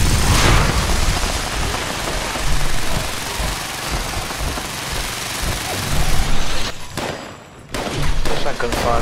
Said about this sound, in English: Gunfire coming from behind.